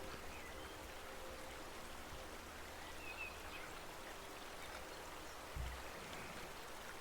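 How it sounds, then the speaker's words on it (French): A river flows gently with a soft, steady trickling wash, quiet and even, with a faint bird chirp and one low thump partway through. "cette douce musique de rivière qui coule paisiblement"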